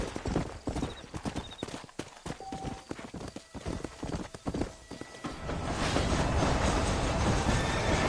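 Horse hooves clip-clop steadily through Red Dead Redemption on PS5 as a horse sets out from New Orleans, with a busy rattling bed that grows denser and louder in the second half, like a wagon rolling.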